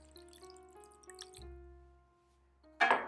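A low hum and faint ringing tones, then a short, sudden splash of one cup of water poured into a pot near the end.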